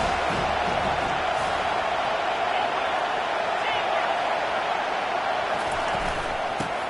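Football stadium crowd roaring steadily behind the defense on a big third down, a dense, constant wall of cheering and noise with no breaks, heard from within the stands.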